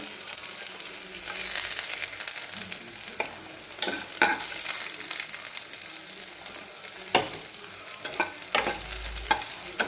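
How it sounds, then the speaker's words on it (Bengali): Steady oily sizzling of soybeans frying in a pan, with occasional scraping knocks of a spatula stirring them, close and continuous. "একদম ভালো করে ভাজা হোক।"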